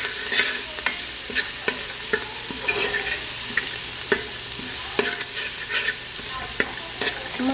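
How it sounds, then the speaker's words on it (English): Fresh seasoning fries in a pot for a Trini-style sweet mango chutney, a steady crackling sizzle broken by frequent scraping stirs and light utensil taps, close and unaccompanied by speech. "I am going to add my fresh seasoning to fry in here as well."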